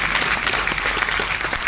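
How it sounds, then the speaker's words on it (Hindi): An audience claps together in a hall, loud close rapid clapping with no pauses across the whole short stretch. "ताली बजा दीजिए।"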